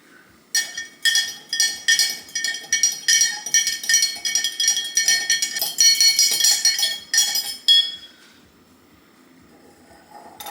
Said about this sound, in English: Let's see if I can stir this without spilling everywhere.